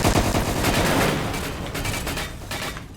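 Gunfire in the Roblox game DARKDIVERS, a continuous dense stream of rapid shots, loud and close, slowly tapering over a few seconds with no talk.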